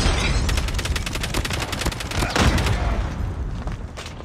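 A frag grenade explodes amid rapid automatic gunfire in the Call of Duty Mobile video game, dense bursts of shots rattling continuously with a heavy blast partway through.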